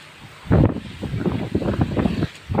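Brief rush of river wind buffeting the microphone on the Jamuna, a loud close gust swelling after a quiet start, with a faint voice or two mixed in.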